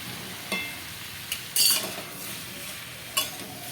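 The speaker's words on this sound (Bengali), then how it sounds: "সব কুমড়োগুলি আমি এইভাবে তুলে নেব" Turmeric-fried pumpkin pieces are scooped out of a hot pan, giving a few short metallic scrapes and clinks over a faint steady sizzle.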